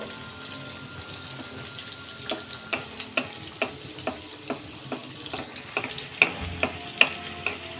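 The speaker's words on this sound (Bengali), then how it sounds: "ফ্লেমটা লো করেই কেকগুলো ভেজে নিতে হবে। প্রথমে আমি দুটো দিলাম, দুটো আগে ভেজে নেব।" Mathura cakes fry gently in oil over a low flame, a soft continuous bubbling with a run of sharp pops and crackles that grows busier toward the end.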